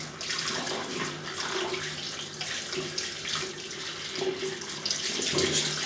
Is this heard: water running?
yes